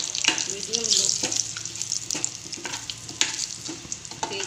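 Cinnamon and bay leaves frying in oil in a kadai on a gas stove over medium-low heat, a steady soft sizzle with occasional stirring clinks, with no talk in this stretch.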